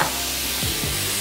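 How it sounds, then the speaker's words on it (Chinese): Diced tomatoes sizzle in hot oil in a pan, a close, continuous loud hiss with a couple of quick stirring scrapes. "咁呢個時候咧就可以將頭先我哋已經切好咗嘅tomato 番茄粒啦放曬落去"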